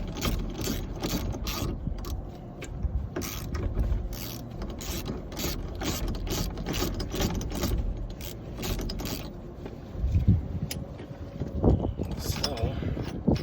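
Close metallic ratcheting and clanking as a bolt-screw puller is tightened on the power steering shaft of a 2014 Peterbilt truck, steady rhythmic clicks with someone talking over them.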